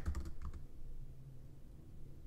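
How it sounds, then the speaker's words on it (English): Quick bursts of keystrokes on a Mac computer keyboard as a terminal command is typed, a few clustered taps up close followed by quiet room hum. "so just type in killall finder"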